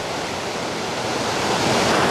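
Rushing water runs steadily toward a traditional water-powered flour mill (pan chakki) in Samahni, a broadband roar of flowing water with no talking over it.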